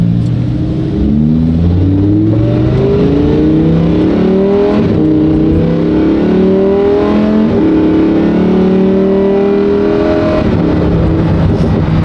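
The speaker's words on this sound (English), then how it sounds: "Car sounds great." Loud Lamborghini engine pulling through rising and falling gear sweeps, a deep, rich roar that climbs repeatedly as the car accelerates, heard from inside or close by with no talking.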